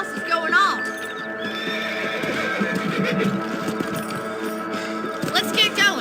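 In Red Dead Redemption, horses whinny and snort repeatedly over a rhythmic clip-clop of hooves, with music and game effects playing underneath.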